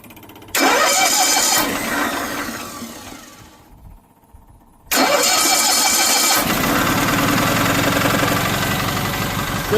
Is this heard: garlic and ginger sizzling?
no